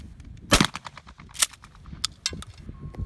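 Shotgun fire on a military trap and skeet range, a couple of sharp blasts followed by smaller distant pops and clatter, loud and outdoors.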